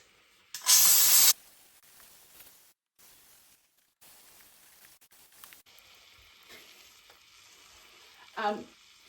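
A Dupray steam cleaner works on a dirty AGA oven, one loud hissing steam burst near the start, then quiet scrubbing and faint clatter, with a short sputtering blast near the end.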